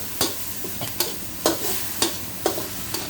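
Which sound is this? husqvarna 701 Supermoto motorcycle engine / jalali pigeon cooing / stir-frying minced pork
stir-frying minced pork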